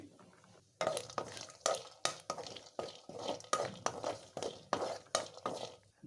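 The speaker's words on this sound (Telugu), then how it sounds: "అలాగే జీడిపప్పును కూడా వేయించుకోవాలి" Cashew nuts frying in a pan produce rhythmic, close scraping and stirring strokes about twice a second over a faint sizzle, with no voices.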